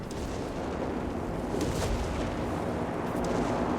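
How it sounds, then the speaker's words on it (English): Heavy artillery blasts from a Vespa self-propelled 105mm howitzer on a Panzer II chassis in Company of Heroes 3, a dense roaring wall of booms with sharper reports near the middle and end. "Based off the Panzer II chassis, mounting a 105mm howitzer."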